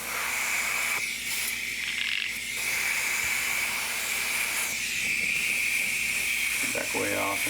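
Thinned paint misted from an airbrush onto a model portrait, a steady hiss running the whole time, interrupted by brief pauses around the first and fifth seconds.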